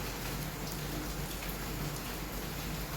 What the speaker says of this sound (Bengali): বাইরে তো বৃষ্টি হচ্ছে